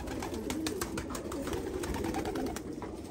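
Polish-breed pigeons cooing in a loft, a continuous soft murmur of overlapping coos close by with light fluttering and scuffling.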